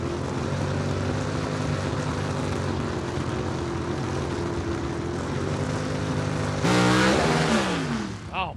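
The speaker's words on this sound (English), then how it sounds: "Tons of tire spin right there." A gasser drag race car roars loudly at a drag strip, its engine droning steadily before a sudden surge as the tires spin, with rising and falling engine pitch near the end.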